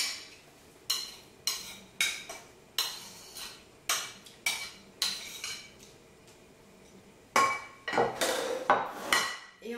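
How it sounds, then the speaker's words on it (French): Egg whites whisked into stiff peaks in a bowl for an apple salted-caramel tiramisu: close, rhythmic metallic clinking in quick bursts, a lull midway, then faster, denser beating toward the end, with no talking. "Je vais mettre mes blancs en neige."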